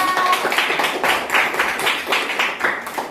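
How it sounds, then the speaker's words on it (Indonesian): Classroom applause for a student group after their presentation: a steady burst of many hands clapping, dense and fairly loud, with no talk over it. "kasih tepuk tangan untuk kelompok 2."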